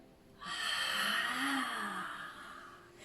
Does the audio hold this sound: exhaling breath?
yes